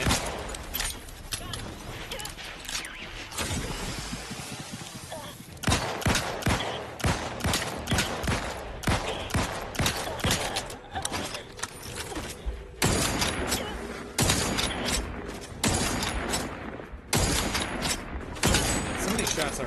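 Video game gunfire in a space shooter, rapid bursts of shots and sharp mechanical clatter in irregular volleys, some sustained runs of automatic fire, loud and close with brief pauses between.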